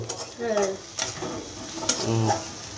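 Sliced onions fry to a crisp golden brown in a pan, an even close sizzle with spoon stirring and brief scrapes, while faint voices murmur in the background.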